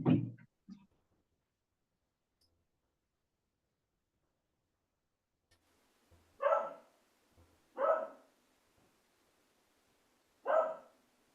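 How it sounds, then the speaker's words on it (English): Freddie, a dog outside, gives three separate barks, clear but slightly distant and evenly spaced, against an otherwise quiet background after a brief low thump at the start. "you might hear Freddie, one of our dogs outside"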